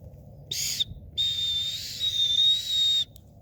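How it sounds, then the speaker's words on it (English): A shrill plastic emergency whistle is blown twice up close, first in a short blast and then in a longer, steady one. "So it's an okay whistle."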